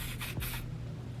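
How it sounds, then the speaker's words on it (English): Wig spray hisses from a can onto a hairline in a few quick close bursts, followed by quiet. "so I'm going to use my wig dealer spray"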